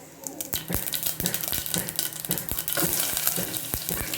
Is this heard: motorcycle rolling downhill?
no